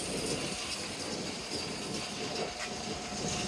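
Rebuilt IDEAL indent sizer running steadily, a continuous mechanical hum and rumble with a faint rhythmic rattle of turning drums, moderately quiet and with no voices.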